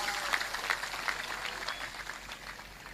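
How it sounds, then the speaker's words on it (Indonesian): Audience applause at a lively Indonesian stage talk: dense, steady clapping from a crowd that fills the whole moment at moderate volume, without a break. "tepuk tangan yang meriah untuk Negara Kesatuan Republik Indonesia"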